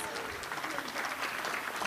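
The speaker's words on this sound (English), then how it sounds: "Let's give her a round of applause." Audience applause at a Boston Public Schools valedictorians luncheon, a steady wash of many hands clapping for a Boston Latin Academy student, moderately distant and continuous throughout with faint crowd murmur.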